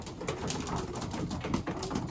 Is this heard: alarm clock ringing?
no